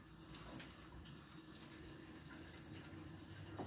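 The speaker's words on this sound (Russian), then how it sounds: "Над краном ставлю, и вода течет прямо в вазончик." Tap water pours over an orchid pot held under the faucet, a continuous, fairly quiet splashing flow that stays steady.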